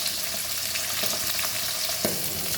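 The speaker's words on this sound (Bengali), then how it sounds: "কাতলা মাছের মাথা বন্ধুরা যখন ভাজবেন খুব সাবধানে, খুব ফটফট করে ফাটে" Katla fish head frying in oil, a loud continuous sizzle with a few sharp crackles and pops rising out of the steady hiss.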